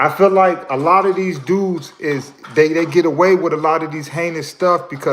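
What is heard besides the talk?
None of the usual background noises is heard.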